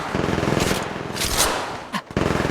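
Rapid automatic gunfire in the mobile battle royale game Apex Legends Mobile, loud, dense bursts rattling almost continuously with a brief pause near the end before firing resumes.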